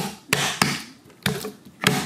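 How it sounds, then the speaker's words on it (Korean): A knife chops shrimp on a cutting board while menbosha is made, giving four sharp, loud whacks at uneven intervals with short pauses and no talking. "하다가 칼질러 왔어요."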